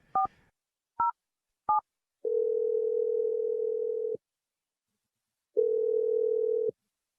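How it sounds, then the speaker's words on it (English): A telephone dials out: three short touch-tone beeps spaced about a second apart, followed by two long, steady ringback tones separated by silence, clean and close with no voices. "We're dialing a phone number"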